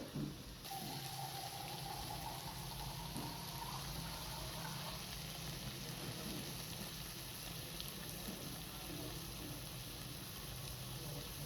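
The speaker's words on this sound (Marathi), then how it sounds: "त्याच्यासाठी मी आता पाणी टाकते" Water running steadily into a pan for egg curry, a continuous gushing splash at low level, alone without talk.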